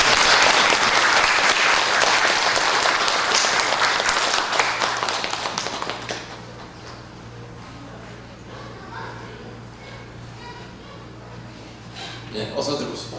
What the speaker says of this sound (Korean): 우선 우리 교회를 대표해서 수고하신 3가정을 위해서 참 축하의 박수 좀 부탁드리겠습니다.